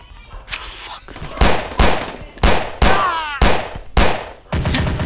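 Bursts of gunfire from a free offline mobile shooter game, several loud volleys spaced roughly half a second apart across the span, with a sweeping whine between shots.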